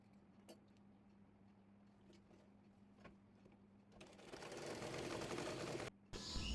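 A sewing machine stitches a neck facing onto a kameez, faint light ticking at first, then a louder, steady whirring run partway through with one brief pause.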